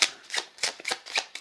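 Light shuffling of a face-down stack of crest cards from a tabletop board game, heard as a series of about five short, crisp riffling bursts, close and quiet with no talking.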